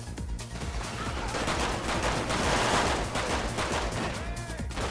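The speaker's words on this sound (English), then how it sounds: "The gunshot really sound like real life for real, though." Dense, continuous gunfire from a GTA 5 police mod shootout with SWAT, loud and sustained with rapid overlapping bursts across the whole stretch and a brief tonal sound near the end.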